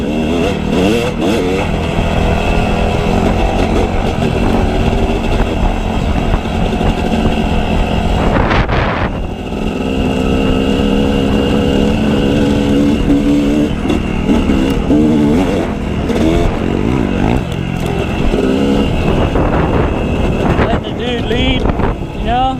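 Motorcycle engine revving hard through a wheelie, a loud continuous roar with rising and falling pitch, heavy wind buffeting the microphone throughout.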